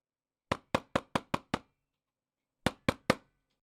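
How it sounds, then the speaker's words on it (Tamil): Knocking on a door in a home, two bursts of sharp raps with no speech: six quick evenly spaced knocks, a pause of about a second, then three more, close and distinct against silence. "இனியா, கதவு தொற"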